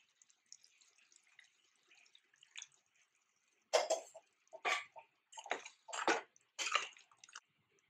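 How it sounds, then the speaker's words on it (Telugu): Water poured into a mutton potato curry in a pot, faint dripping first, then several short splashing pours in bursts, close and clear, no talk. "వాటర్ కలుపుకొని వేసుకొని"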